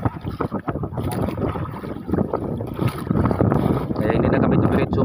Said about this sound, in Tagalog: bigla lumakas ang hangin tapos lumaki ang alon